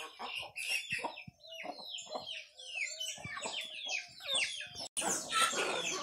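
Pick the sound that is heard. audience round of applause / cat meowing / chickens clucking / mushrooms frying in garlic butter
chickens clucking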